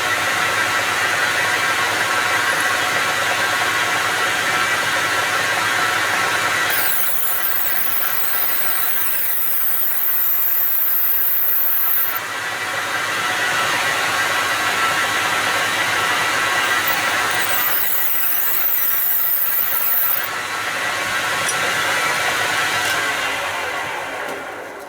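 A small drill turns a 1.6 mm bit while making a micro collet, giving a steady whining machine drone with a high squeal that rises in two separate spells, close and loud, with no talking.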